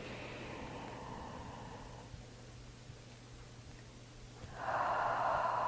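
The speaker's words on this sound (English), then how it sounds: "taking the biggest breath you've taken all day" A deep breath during a healing meditation: a long airy inhale, a near-silent hold, then a strong rushing exhale, close and with no talking.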